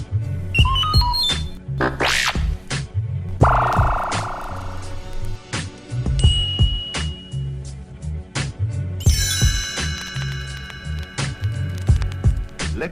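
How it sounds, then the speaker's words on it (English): Computer-style electronic bleeps, chirps and tonal sweeps from a read-along record book ring out in a busy sequence over a low pulsing rhythm. "You will know it is time to turn the page when you hear the computer sound like this."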